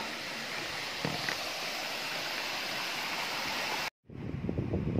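A waterfall and stream near the old Gombak–Karak road rush steadily at night in a dense, continuous roar. The sound cuts out briefly near the end, then returns.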